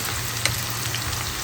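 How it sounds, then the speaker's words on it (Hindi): Garlic frying crisp in hot oil for a dal tadka, a close, steady sizzle and crackle with a brief stirring clatter, no voices. "और ये हमारा तड़का बन रहा है"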